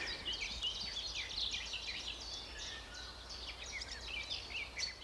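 Faint birdsong drifts in from a distance, soft chirps and trills layered over a quiet outdoor ambience.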